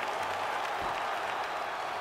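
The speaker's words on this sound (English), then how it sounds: "Stand and cheer, ladies and gentlemen." An arena crowd in the UFC 5 video game applauds and cheers after a fight ends, a dense, steady wash of clapping and roaring that stays loud throughout.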